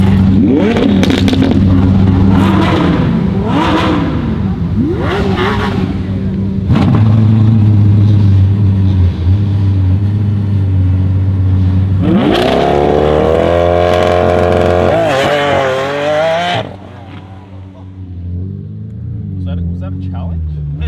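Ferrari F40 accelerating at a car meet with traction control switched off, a loud revving engine climbing in pitch through several surges, then dropping away as the car pulls off, with people talking over it.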